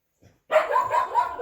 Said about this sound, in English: I don't know why the dogs in the neighborhood are going crazy